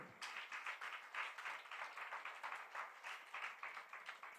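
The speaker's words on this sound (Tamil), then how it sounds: "பாலவிகாஸ் சில்ட்ரன், பாலவிகாஸ் குருஸ், பாலவிகாஸ் பேரண்ட்ஸ், இவங்களுக்கெல்லாம் ஒரு பெரிய கைத்தட்டல்." Faint, rhythmic clapping from a hall audience at a Sri Sathya Sai 97th birthday celebration in Sai Charanam Hall, Chennai, applauding Balvikas children, gurus and parents, with steady, even beats throughout.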